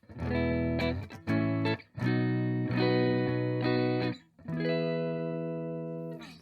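Clean electric guitar played through a Wizard Friend guitar's neck pickup, a series of ringing strummed chords, each sustaining and then changing, clear and close with no talk.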